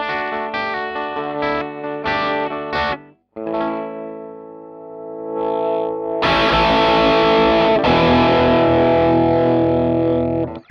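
Electric guitar through a Gokko Salem Boost pedal with the guitar's volume knob rolled back, cleaner picked chords and single notes, a short pause, then a fuller, brighter strummed section ringing out loud and close.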